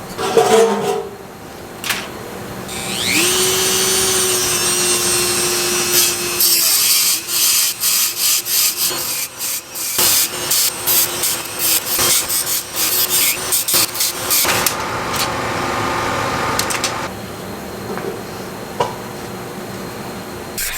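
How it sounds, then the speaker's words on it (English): A tool cuts off the aluminum lower grille rail of a Ferrari 308 GTS. It makes a loud, harsh, rasping sawing noise in long strokes and choppy bursts that stop and start, with no voices. "I'm just going to lop the bottom most grill rail off right there, this whole"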